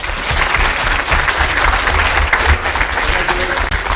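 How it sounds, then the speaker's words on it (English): Steady, dense applause fills a hall as an award-ceremony audience claps for a school prize winner, continuous and fairly loud from start to finish with no speech. "So another round of applause for Sheena, please."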